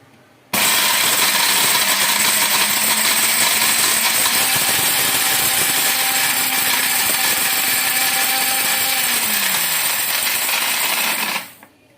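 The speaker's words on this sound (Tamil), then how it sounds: "இன்னும் நைஸாக வேணாலும் இன்னொரு நாலு கவுண்டிங் கூட போட்டுக்கலாம் நமக்கு மிக்சியில்" A mixer grinder grinding asafoetida into powder whirs loudly and steadily for several seconds, a harsh high-pitched grinding buzz that cuts off abruptly at the end.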